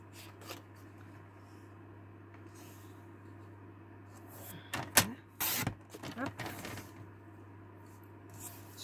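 Paper is being cut for a handmade mini album, trimmed to 5 cm: quiet rasping strokes and a brief cluster of louder crisp cuts midway, close by and otherwise fairly faint.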